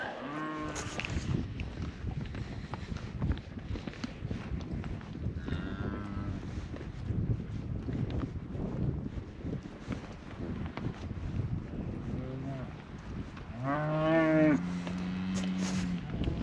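Cows in a large pasture moo repeatedly, several low drawn-out calls from different animals, some near and some farther off, over steady wind noise on the microphone.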